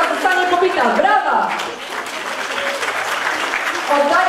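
Audience applauding at a WOŚP charity finale in Strzelce Opolskie, a sustained wash of clapping from a crowd that carries through the whole stretch, with a voice speaking over it and a few chuckles near the start.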